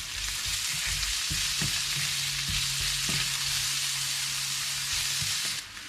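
Sliced ginger and onion hiss and sizzle in hot oil in a frying pan, a steady close crackle broken by a few soft clunks of a utensil stirring.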